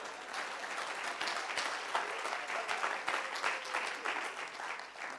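Congregation applause during a Spanish-language sermon: sustained, fairly loud clapping from many hands with uneven bursts, filling the room without speech over it.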